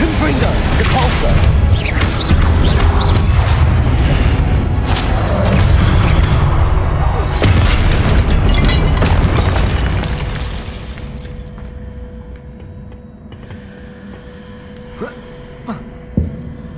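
Confringo and Depulso spells blast in Hogwarts Legacy: a loud, dense run of booming explosions and crashing debris rolls on for several seconds, then fades to a quieter hum with a couple of late thuds.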